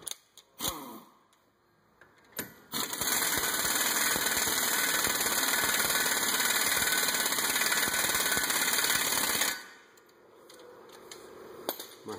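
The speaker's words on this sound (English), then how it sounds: "My 100 foot-pound torque stick for wheels and tires." A 100 ft-lb torque stick on an impact wrench drives a wheel nut tight on a 2009 Dodge Nitro, a loud continuous rattling hammer lasting about seven seconds, with a short burst before it and a few clicks after.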